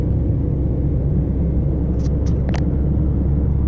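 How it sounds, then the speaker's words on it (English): A car driving through a forest in Tasmania gives a steady low interior road rumble, close and continuous, with a few faint brief higher clicks near the end and no talking. "driving through the forest."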